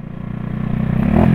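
Kymco Kargador cafe racer motorcycle engine running close by, a brief, loud, throbbing exhaust note that rises slightly as it revs.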